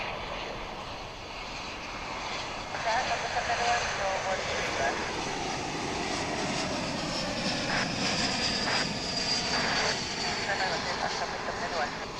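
An Airbus A321 lands at DFW International Airport with a broad, sustained engine roar that swells slightly midway, heard at a distance under a person talking.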